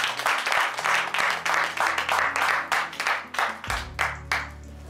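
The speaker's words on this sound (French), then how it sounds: "Est-ce qu'on peut applaudir le Seigneur?" A church congregation claps together in a steady, rhythmic beat, the sound close and lively over a low hum, with no speech.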